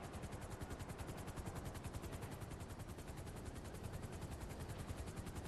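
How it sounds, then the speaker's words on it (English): Helicopter rotors in the video game GTA Online make a fast, steady chopping beat that runs evenly throughout and stays close and constant. "So try to get into the helicopter here."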